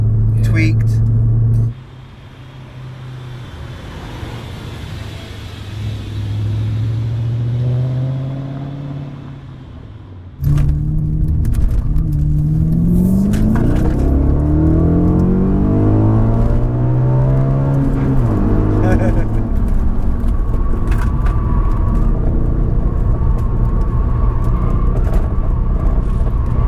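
A deep Audi RS4 V8 engine rumbles at idle, then revs and climbs through gears with rising and falling tones, loud and close, continuous throughout.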